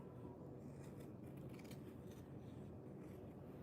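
Scissors trim quilt fabric close to a seam line, a quiet, continuous run of soft snipping and rubbing heard up close with no voices.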